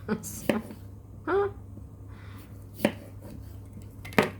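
A knife slices into a potato for hasselback potatoes in a home kitchen, with a few separate knocks of the blade against the board and a brief scraping cut. The sounds are close and sparse, with quiet background hum between them.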